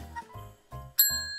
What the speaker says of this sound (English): It's a Christmas tree bell decoration.